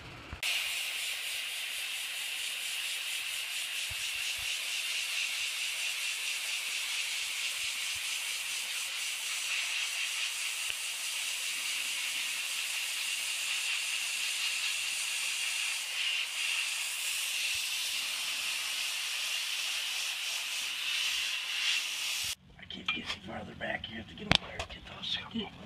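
A sandblaster blasting sand, a loud, continuous broadband hiss that holds steady for about twenty seconds and then cuts off abruptly, followed by a few scattered knocks and faint sounds.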